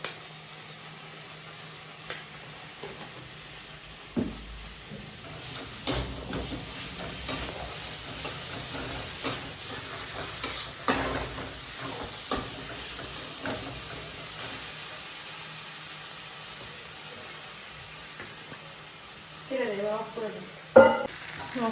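A spice paste fries in a pan before dal goes in, a soft steady sizzle broken by repeated scraping stirs and clinks of the spoon, with brief talk from people nearby.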